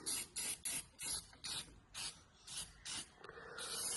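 Short hissing bursts from a spray can coat the rail of a Savage Kestrel boat under restoration, about nine quick, fairly quiet sprays in an uneven rhythm, close by, with the nozzle sputtering near the end.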